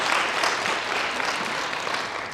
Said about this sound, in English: And a round of applause, everybody.